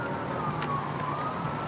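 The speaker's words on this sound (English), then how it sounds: "Here come the sirens again." Emergency vehicle siren wailing faintly in the distance, a thin steady tone slowly bending in pitch over a constant background hum, with no talking.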